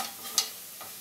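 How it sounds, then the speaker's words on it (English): Mushrooms cook down in a hot pan for a curry shrimp stir fry, giving a faint, steady sizzle with a single brief stirring scrape near the start. "So, here we have our mushrooms. I'm going to just cook these down."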